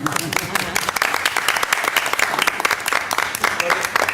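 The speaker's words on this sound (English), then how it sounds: "Can we take a moment to applaud?" Audience at a school district board meeting applauding, dense rapid clapping from a room of people, steady and fairly loud for several seconds with faint voices underneath.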